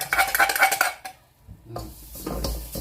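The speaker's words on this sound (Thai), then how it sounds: "คั่ว ดิบๆ คั่วแห้งๆไปเลยครับ" Pork belly dry-roasting in a pan with pounded spice paste and no oil, giving close clattering stirs and scrapes of utensil on metal in bursts, a brief lull, then more stirring with a soft sizzle underneath.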